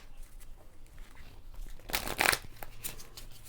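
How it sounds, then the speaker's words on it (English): Decks of cards being shuffled by hand for a Monty Python and the Holy Grail collectible card game, heard up close as quiet riffling that builds into one loud, dense ripple and then a few softer riffles. "We're going to shuffle our decks"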